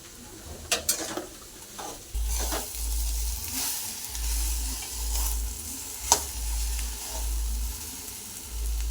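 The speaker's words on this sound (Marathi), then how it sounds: "ते बघा ही भेंडी अशी सारखी हलवत राहायची आहे" Okra fries in oil in a pan and is stirred continuously, a steady close sizzle with a few clinks of the spatula early on and soft repeated scraping strokes throughout, no voices.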